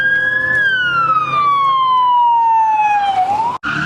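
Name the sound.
police car siren at car meet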